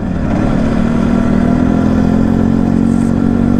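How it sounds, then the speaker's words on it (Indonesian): A Yamaha TZR250 3MA two-stroke motorcycle idles close by with a steady, smooth, loud engine hum and a constant buzzing note throughout. "Motor ini bisa dibilang halus banget."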